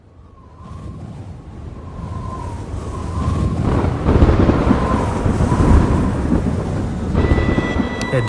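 A thunderstorm with wind in the Area 51 video game, set over the New Mexico desert: a steady roar of rain and wind builds into long, heavy rolling thunder, loud and continuous throughout.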